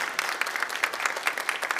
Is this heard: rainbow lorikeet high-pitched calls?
no